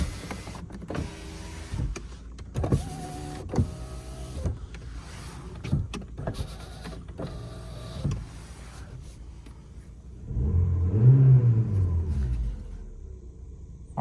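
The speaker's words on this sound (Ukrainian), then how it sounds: "склопідйомники. Працюють." A Volkswagen Golf 4's power windows hum through a few short runs punctuated by clicks, then a low engine rumble swells near the end, heard from inside the car.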